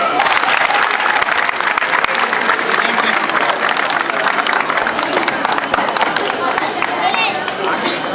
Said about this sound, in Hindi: इनके लिए जोरदार तालियां एक बार हो जाए फिर से।